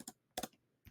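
Keys on a computer keyboard tapped in three short bursts while a name is typed, crisp and close with quiet gaps between strokes.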